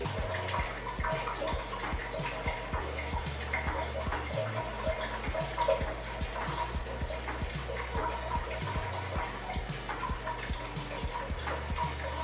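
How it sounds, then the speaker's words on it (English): Water rains down inside a pumped hydroponic tower with some planting cups removed, a continuous close patter and trickle over a low steady pump hum, with no voices. "I have some of the cups removed so you can see how the water rains down inside"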